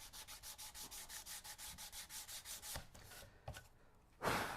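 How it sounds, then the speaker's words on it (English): Rhythmic back-and-forth scrubbing of 100-grit sandpaper on wooden guitar X-braces, steady even strokes, close and quiet, ending with a few knocks and a louder rub. "So just a little bit more sanding there with this grit."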